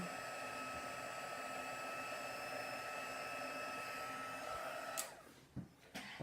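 A heat embossing tool blowing hot air to melt embossing powder on a butterfly card, a steady close whirring hum like a small hair dryer that runs continuously, then clicks off with a few handling knocks.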